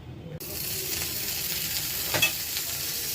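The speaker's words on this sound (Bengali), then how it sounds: "এবার আমি উঠিয়ে নেব আর একটু বাটার দিয়ে আরও দুইটা ব্রেড আমি রোস্ট করে নেব" Bread toasts in melted butter in a pan, giving a steady close sizzle and crackle that starts abruptly and continues evenly, with faint scraping or stirring touches and no talk.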